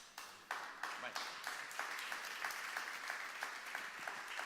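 An indoor audience at a literary gathering applauds, a dense wash of clapping with sharp individual claps standing out at a fairly regular pace, moderately loud and sustained.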